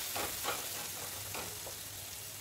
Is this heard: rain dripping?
no